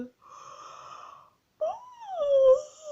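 A voice imitating a lazy mongoose yawning in a children's story reading: a breathy drawn-out wheeze, a short pause, then a rising and falling moaning yawn, close and alone.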